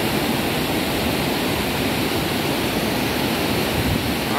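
Water rushes steadily and loudly down the concrete spillway of the Zabumbão dam in Paramirim, Bahia, a dense, unbroken roar heard close up with no voices.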